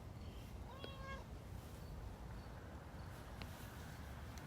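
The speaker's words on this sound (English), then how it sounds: "What is that? Is that a cat?" A cat meows a few times at mid distance, short tonal calls standing out over a steady outdoor background hiss, with no talking over it.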